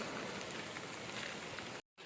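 Steady rain falls on an overgrown village farm plantation, a dense, even hiss with no voices, cutting out briefly just before the end.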